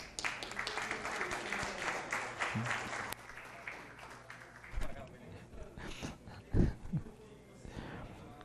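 A round of applause in the Mogi Guaçu municipal council chamber during a session, a few seconds of brisk clapping that quickly dies away into scattered voices, thumps and room noise.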